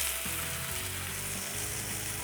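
Chicken breast sizzles steadily in a covered frying pan, a continuous close crackle and hiss of frying with no talking.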